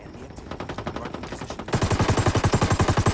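Automatic gunfire in Ghost Recon Wildlands, a rapid steady burst of rhythmic shots that grows suddenly louder and closer halfway through, continuing without pause to the end.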